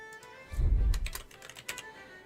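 Fingers type on a computer keyboard in a few quick clusters of close, crisp keystrokes. A soft thump sounds near the start, and nobody talks.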